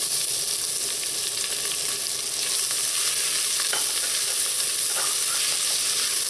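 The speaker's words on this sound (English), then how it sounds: "And just let this saute until the garlic starts to turn a light brown color." Garlic and scallions sauté in a hot pan, giving a steady, dense sizzle that holds at an even level throughout, with a few faint stirring clicks and no voices.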